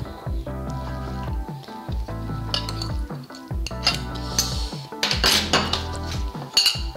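Yeast being mashed with sugar in a bowl, giving repeated clinks and scrapes of a utensil against the dish in steady bursts, close and fairly loud with no talking.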